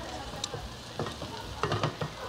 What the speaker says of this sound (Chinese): 马上要下蛋液。